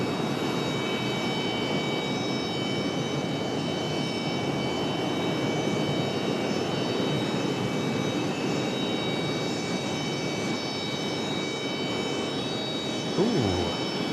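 Mountain Air Cargo FedEx plane touching down hard on the runway at Raleigh-Durham, a broad steady roar of engines and wind noise throughout, with a brief low thump near the end, heard from a distance.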